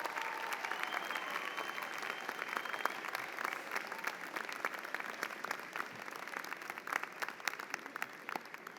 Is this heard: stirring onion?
no